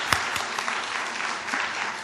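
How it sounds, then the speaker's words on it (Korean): A church congregation at an anniversary revival service claps together, a dense steady applause with a few sharper hand claps standing out near the front, filling the whole short stretch. "정말 박수하고 싶어요"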